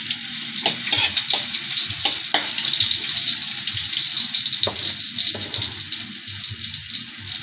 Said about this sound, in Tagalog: mainit na yung ating kawali